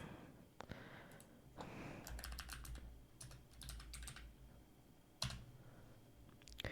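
Someone types an IP address on a computer keyboard. The keystrokes come as quiet, quick bursts of clicks with short pauses between them, and no one speaks.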